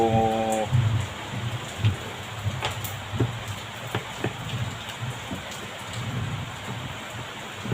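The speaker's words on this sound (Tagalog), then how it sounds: "Maulan sa amin ngayon" Steady rain falls outdoors during a gearbox repair, a continuous hiss with scattered sharp drips and knocks, close and moderately loud, with no speech.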